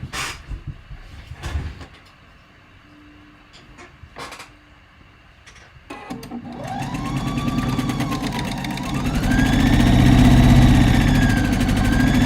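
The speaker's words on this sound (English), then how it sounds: "sew the short side together" After a few scattered clicks and handling noises, a sewing machine starts up and hums steadily while stitching fabric pieces together, growing louder and holding a whirring motor drone.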